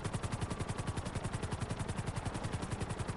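Automatic gunfire in a video game, a fast and steady stream of loud, closely spaced shots firing without pause for a few seconds, with no talking.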